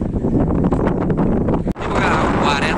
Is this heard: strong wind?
yes